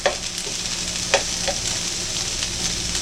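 Sliced onions sizzle steadily in a hot pan as they brown, with a few sharper spatters and stirring scrapes breaking through a constant close hiss; no one speaks.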